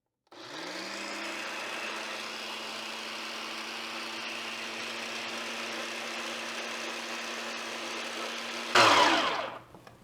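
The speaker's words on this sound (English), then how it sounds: "we want to start the blade continuously spinning and very slowly add in the oil" A food processor runs continuously for about nine seconds, a steady motor whine blending aioli with lemon and Old Bay as olive oil is added slowly, ending in a louder burst of rattling just before it stops.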